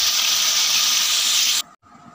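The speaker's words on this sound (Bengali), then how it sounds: "উচ্ছেগুলো আমি গোল গোল করে কেটে রেখেছিলাম, এইগুলো লাল লাল করে ভেজে নেব।" Round slices of bitter gourd fry in a pan with a loud, steady, close sizzle that cuts off abruptly near the end, leaving a faint residual hiss.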